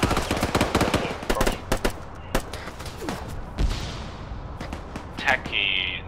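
Arma 3 gunfire cracks in rapid bursts and single shots, loud at first and then sparser and more distant, with a man's radio-style voice speaking briefly near the end.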